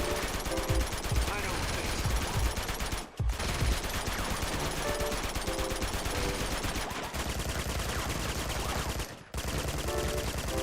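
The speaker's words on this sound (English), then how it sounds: "There's other people shooting." Rapid gunfire from other players fills an Uncharted 2 multiplayer match, a dense, continuous barrage of shots with brief pauses, running loud and near throughout with occasional voices mixed in.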